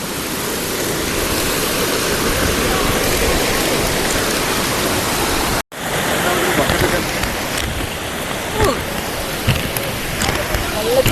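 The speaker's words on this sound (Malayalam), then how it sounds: "ഇവിടെ ഒരു വെള്ളച്ചാട്ടമുണ്ട്," A waterfall on a trek in Kerala roars with loud, steady rushing water close by, broken by one brief cut midway, with faint voices underneath.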